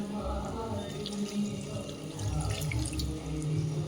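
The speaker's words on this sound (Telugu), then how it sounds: "ఇప్పుడు ఈ టైంలో కొద్దిగా వాటర్ యాడ్ చేద్దాం" Water pours into a pan of simmering Andhra-style pandugappa fish curry, a steady splashing, gurgling stream running throughout at close range.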